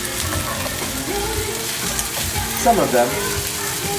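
Carrots, garlic and onion fry in a heavy-duty Lodge wok with a loud, steady sizzle that swells briefly as the vegetables are stirred, while a voice speaks a few words over it.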